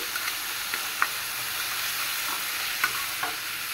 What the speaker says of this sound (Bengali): চিংড়ি মাছ আর পেঁয়াজ একসাথে আমি তেলে ভেজে নিতেছি।